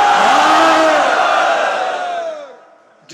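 A large crowd at a religious majlis in Lucknow roars back the Naara-e-Takbeer call, one loud sustained shout of many voices that swells and then fades away over a few seconds.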